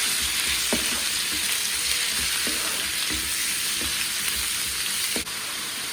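Chicken pieces frying in hot oil with browned chopped garlic for a Khmer stir-fried rice noodle dish, a steady close sizzle with scattered crackles and stirring clinks, no voices.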